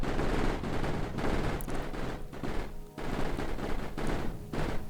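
Turrets in the video game Mindustry fire at incoming bombers, producing dense, continuous rattling gunfire in rapid overlapping bursts, loud throughout and heard on its own.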